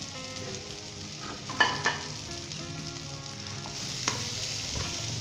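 Spices and green chilies fry in hot oil in a pan for a cabbage and potato curry. A steady, close sizzle continues throughout, with a few sharp clinks of stirring against the pan.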